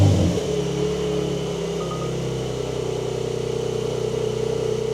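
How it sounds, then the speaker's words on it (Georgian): A Porsche 911 engine runs steadily with a deep, continuous rumble and a low droning hum, close and loud throughout, with no voices. "არა, მაგრამ ისეთი ხაი Porsche-ს რაც უნდა გქონდეს ეგ ხმა აქვს."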